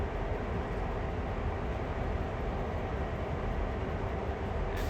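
A long train on the Northeast Corridor in the Train Sim World video game runs with a steady, dense low rumble and rolling noise that holds even and unbroken throughout, with no voices.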